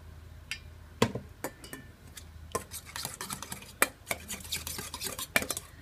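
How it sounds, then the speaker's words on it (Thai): Shrimp paste is stirred with a little water in a cup: a spoon clinks and scrapes against the sides in quick, irregular taps and rubs, close and fairly quiet. "เอากะปินะคะใส่นี่นะใส่ถ้วยแบบนี้แล้วก็ผสมน้ำไปนิดนึง"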